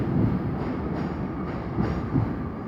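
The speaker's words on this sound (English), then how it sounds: "We were waiting eagerly on this side for the Crewe train and got it" A passenger train from Crewe rumbles past steadily at moderate distance at Shrewsbury station, with rhythmic clatter of wheels over rail joints and a low continuous roar.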